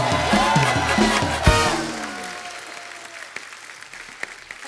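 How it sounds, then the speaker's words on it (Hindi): Studio audience applause at a taping of The Kapil Sharma Show, loud and dense clapping that swells with a sharp peak, then tapers off as a voice lingers underneath. "माधुरी दीक्षित जी के लिए एक बार जोरदार तालियां हो जाए"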